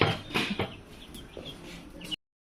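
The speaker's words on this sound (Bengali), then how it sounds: "এইগুলো আমার মার হাঁস।" A group of domestic ducks calls outdoors near a village home, a few quacking and clucking notes over rustling background before the sound cuts off abruptly.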